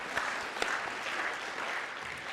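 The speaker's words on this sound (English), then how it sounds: "I heard someone clap." Scattered audience clapping rises briefly at a church talk, a short, moderately loud patter of hands heard from a distance.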